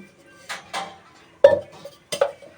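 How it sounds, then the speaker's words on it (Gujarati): A kadai set down on a home stove while fish is being cooked, heard as a few distinct metallic clanks and knocks of cookware, spaced apart over quiet background. "અને હવે આપણે કઢાઈ મૂકી દઈશું"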